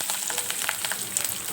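Curry leaves crackle and sizzle in hot oil with sesame seeds, a close, busy frying hiss dotted with small pops and spits, steady across the short moment with no talking.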